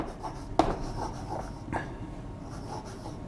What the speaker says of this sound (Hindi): इधर लिख रहा हूं थोड़ा सा